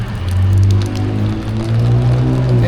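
Rain falls at an evening Christmas market, a steady patter on surfaces with a low hum of traffic or machinery beneath it, fairly loud and close.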